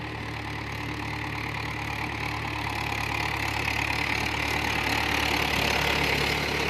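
A Mahindra Bhoomiputra tractor engine running in low third gear at about 1300 rpm, a steady mid-pitched diesel drone with slight knocking texture, close and constant without speech.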